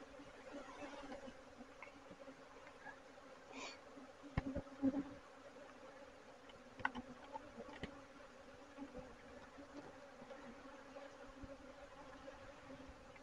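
Swarming honeybees at a bee barn give a faint, steady buzzing drone, with a few louder close passes and knocks breaking through now and then.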